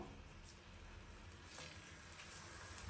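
Chicken breast frying in about 60 ml of hot oil over medium heat, a steady soft sizzle running evenly throughout with no voices.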